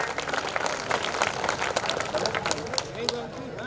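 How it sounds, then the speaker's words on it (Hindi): Audience at a kavi sammelan, a poetry gathering at the Kishanpur Mela, applauding steadily in a sustained, moderately loud patter of many hands, with voices in the crowd mixed under it. "मैं चाहूंगा एक बार और जोरदार तालियों से विदाई दें"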